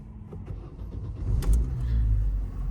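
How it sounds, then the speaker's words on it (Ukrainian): An Opel Zafira B engine cranks and catches after an ignition lock repair, a close, low rumbling start that builds and settles into a steady idle, with no talking. "І машинка чітко заводиться."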